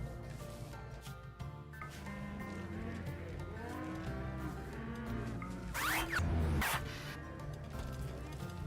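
Several cows in the video game RimWorld moo in overlapping, drawn-out calls one after another, with a short zipper-like rasp near the end.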